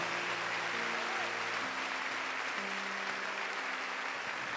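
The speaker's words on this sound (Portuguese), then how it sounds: "Aplauda o Senhor que é Deus e que é santo." A church congregation applauds with a steady, dense wash of clapping, fairly loud and continuous, while sustained organ or keyboard chords play beneath it.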